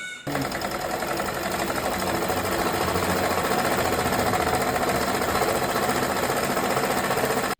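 A domestic sewing machine, refitted after cleaning to stop its thread from snapping, stitches continuously at a fast, steady mechanical chatter, loud and close, running without pause for about seven seconds before stopping abruptly.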